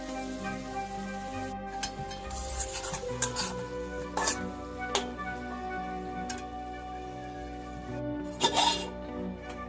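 Tomato chutney cooking in a pan, stirred with repeated scraping and clinking strokes at irregular intervals over a low steady sizzle, close and moderately quiet with no talking.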